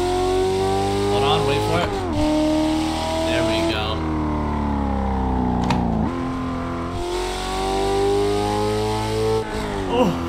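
The V8 engine of a 2024 Ford Mustang GT in Assetto Corsa drones steadily at high revs, climbing through gear changes with brief dips between shifts, while someone talks briefly over it.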